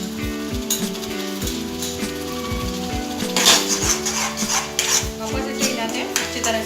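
A spoon stirs a thick mixture of jam and dry fruit powder in a pan, giving repeated scraping and rubbing strokes at close range, with clinks of metal against the pan and a faint sizzle underneath.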